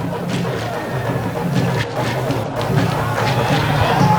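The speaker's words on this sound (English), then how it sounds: "you could hear from the crowd acknowledging that effort" A stadium crowd at a Gambia Football Federation First Division League final responds to a play with a rising, distant roar and murmur, beneath a commentator talking steadily.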